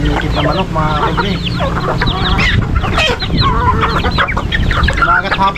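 Chickens cluck and chatter continuously, several birds close by, with a busy, overlapping rhythm and some background murmur.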